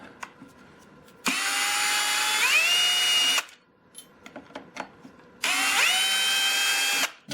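A Ryobi cordless drill, not in hammer mode, whines in two long bursts driving screws with a T10 bit, its motor pitch dipping partway as the screw bites, with quiet clicks and handling noises between.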